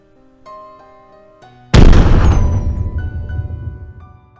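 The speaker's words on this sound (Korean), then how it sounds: "엄청난 폭발음이 도서관 현관에 울려 퍼졌다" An explosion bursts at the entrance of a library the moment a stolen umbrella is opened: a soft tone plays first, then a sudden loud boom that rings out and fades over a couple of seconds.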